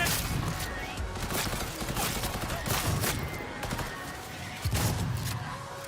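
Rapid gunfire in Cyberpunk 2077 during a firefight, sharp shots cracking in quick irregular bursts over several seconds at moderate loudness, mixed with game ambience and occasional talk.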